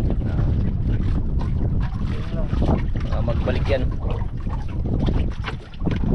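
Strong wind buffets the microphone on open water from a small boat, a constant loud roaring rush with gusty swells, while people talk briefly over it.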